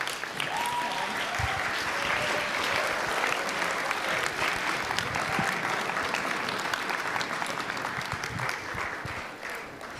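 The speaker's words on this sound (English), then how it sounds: "let's clap for them." Sustained audience applause fills a ballroom during a student session, a dense, even roar of many clapping hands with a few voices faintly underneath, easing off in the final second.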